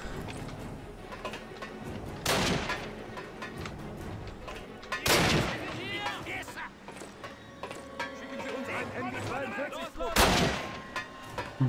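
Gunfire in a Call of Duty video game, with three loud, sharp shots spaced a few seconds apart over rumbling game noise, mechanical clatter and a voice talking at times.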